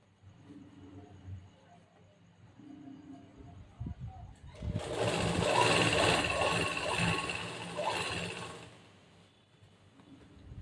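Sewing machine stitching cloth while a blouse is assembled, a fast steady whirring run of several seconds in the middle, preceded and followed by quieter handling of the fabric.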